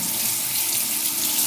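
Tap water gushes steadily into a kitchen sink to rinse cooked free-range duck pieces for Hunan-style bandit duck, a constant near splashing rush with no talk.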